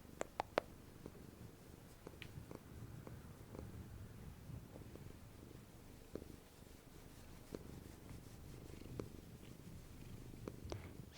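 Domestic cat purring steadily while being scratched, a close, continuous low rumbling purr with light scratching and small clicks, no voices.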